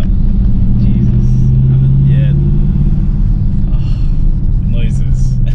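An ABT tuned Audi Q7 with a V8 twin-turbo diesel accelerates with a deep, steady rumble heard from inside the cabin, with people talking over it.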